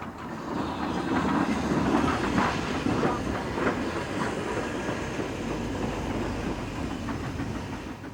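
An LNER N2 class steam tank engine runs on the Great Central heritage railway, giving a steady rumbling rolling noise with rhythmic clatter and a low hiss at moderate distance, with no voices.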